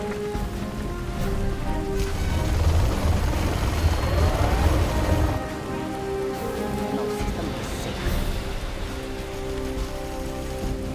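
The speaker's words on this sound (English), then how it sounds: "High-speed bomber ready for takeoff." A high-speed bomber from the video game C&C Generals Zero Hour roars loudly with a broad, rushing engine noise and a rising whine, swelling to a peak and then easing to a steadier drone.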